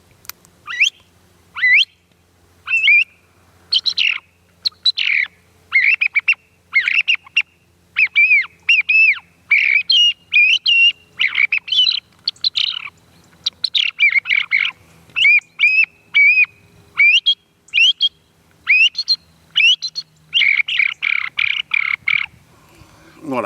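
A song thrush song imitated on a chilet bird whistle, in the Provençal style: loud, close whistled phrases come in rapid bursts of repeated notes with short pauses, with no other sounds.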